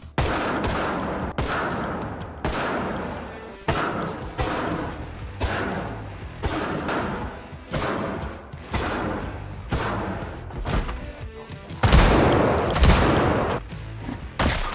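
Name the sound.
M14 rifle gunfire in the video game Project Zomboid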